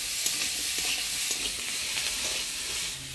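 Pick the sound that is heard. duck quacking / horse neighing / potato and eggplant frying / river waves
potato and eggplant frying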